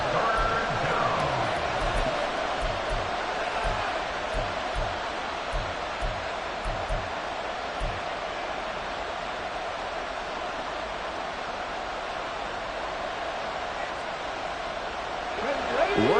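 A packed football stadium crowd roars at fever pitch, a dense, continuous wash of cheering and noise that holds steady throughout.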